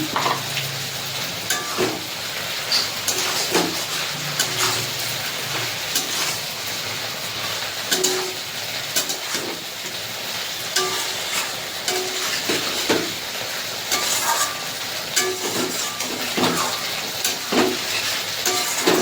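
Taro stolons cooking in a pan with fried shrimp, poppy seed paste, coconut and a little sugar, stirred steadily: a loud, continuous sizzle with repeated scraping strokes of the spoon throughout.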